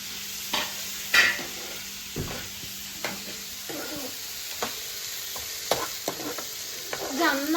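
Tomatoes, carrots and onions frying in a pan for white sauce pasta, a soft sizzle under repeated scraping and clacking stirring strokes at an irregular pace.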